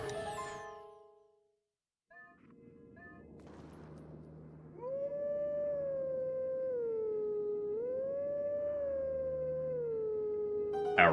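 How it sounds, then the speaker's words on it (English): Wolf Link in Twilight Princess lets out one long, sustained, wavering howl that rises and dips in pitch, loud and close over a low ambient drone, after a brief musical jingle. "Wolflink has a beautiful howl."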